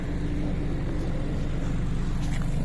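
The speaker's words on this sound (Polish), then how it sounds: "Chodźmy jeszcze na tył, przysłuchać się, jak słychać wydech" A steady, deep engine rumble with a throaty exhaust note from a 2020 Mercedes-AMG CLA 45 S, idling evenly and loud from close behind the car.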